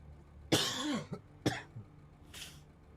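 A person coughs during a SnowRunner gaming session: two sharp, close coughs about a second apart, then a fainter throaty rasp, with quiet background hum between.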